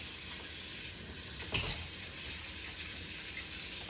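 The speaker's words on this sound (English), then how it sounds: "Wash my hands." Water runs from a kitchen tap during hand washing, a soft, steady splashing hiss with a brief louder splash partway through, with no talking.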